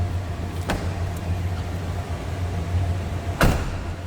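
Door of a 1990 Ford F-150 pickup truck shutting with a solid thump over a steady low idle hum, preceded by a fainter click or latch sound earlier.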